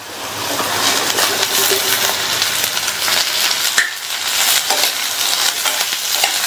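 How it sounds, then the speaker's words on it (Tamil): Garlic and onion sauté in hot oil in a pan with ivy gourd, giving a steady, close hiss of sizzling with stirring scrapes and a few light clinks throughout. "இதை லேசா வதக்கி விட்டுட்டு கட் பண்ண கோவக்காயை சேர்த்துக்கலாம்."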